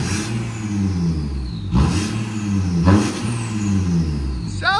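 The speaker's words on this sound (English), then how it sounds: "you can hear the turbo spooling up" A 2017 Audi A7 turbo diesel with muffler delete and downpipe revved repeatedly, a loud close burbling exhaust swelling in two strong bursts, with a rising whistle of the turbo spooling over the engine.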